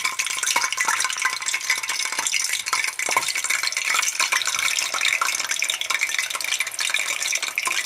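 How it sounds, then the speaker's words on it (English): Plantain frying in hot oil at medium heat, a dense continuous crackling sizzle close by with light stirring rattles, and no talk. "Then, now, I'm going to be adding in my plantain."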